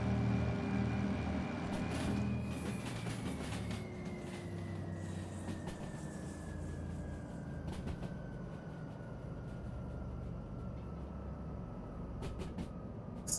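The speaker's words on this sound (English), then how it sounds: "All I hear is rain and low train." A low, continuous train rumble with steady rain hiss, joined by a slowly falling tone and scattered faint clicks.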